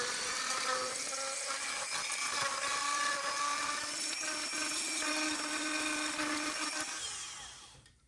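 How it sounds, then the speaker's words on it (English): A Dremel rotary tool scuffing the plastic center console dash surfaces of a 2009-14 Ford F-150, giving a continuous high-pitched whine with grinding contact noise, close and loud for about seven seconds before spinning down at the end. "I'm going to take a Dremel and I'm going to scuff up the areas that the epoxy is going to be sticking to"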